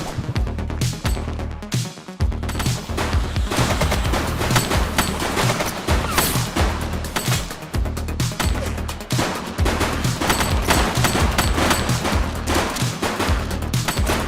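Dense, sustained gunfire rattles without pause through a shootout in the police game The Precinct, with rapid overlapping shots and heavy booms that stay loud and close the whole time. No one speaks.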